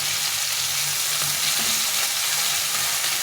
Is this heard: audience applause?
no